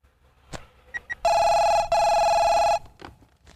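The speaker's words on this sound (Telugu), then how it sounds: "అయ్యా ఫోన్ అయ్యా" A telephone bell rings loud and close in two long bursts separated by a short gap, with a few faint knocks and movement sounds before and after.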